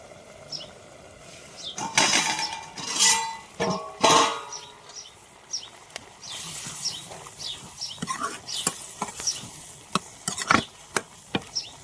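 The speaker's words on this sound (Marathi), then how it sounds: "त्यात मी टाकू आता कोथिंबीर आणि मस्त परतून घेऊ" Scraping and stirring in a pan with soft sizzling underneath, punctuated by a few louder clanks and scrapes, close by, as coriander is sautéed with coconut.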